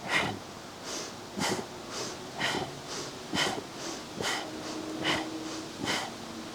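Sharp, forceful kapalabhati yoga exhales puff through the nose about once a second, a steady rhythmic series of short bursts with quiet gaps between, close and fairly soft.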